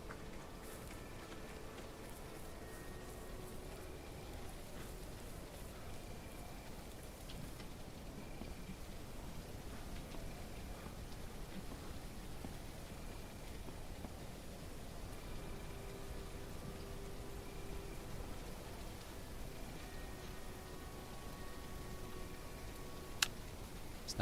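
Steady rain hisses evenly in the HumanitZ survival game, a dense, moderately quiet wash with faint ticking drops throughout and no voices.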